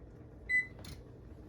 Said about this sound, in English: I'm going to go ahead and get my oven turned on and get it baking